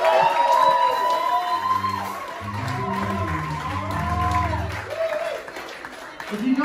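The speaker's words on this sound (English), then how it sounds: "Big round of applause for Paul Chase on the video." A comedy club crowd at a live stand-up set claps and cheers at moderate distance, a continuous wash of applause with a voice talking over it.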